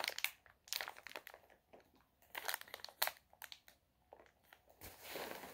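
A ginger chews candy wrapper is crinkled and rustled close up in bursts, with quieter gaps between the crackling handling sounds.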